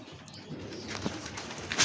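Pigeons kept by a bird keeper give a soft, low coo amid rustling and background noise, brief and fairly close, with a sharper sound at the very end.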